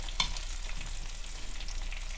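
Fish skin-side down sears in hot oil with a continuous close sizzle and light crackle, opening with a brief sharp clink, and no voices over it.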